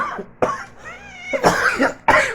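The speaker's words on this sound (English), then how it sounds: "fake coughing made me cough for real." Several harsh, close coughs come in bursts, with a brief wheezy breath between them.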